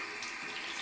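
A bathroom tap runs in a steady, close hiss of water during face washing, brief and unbroken.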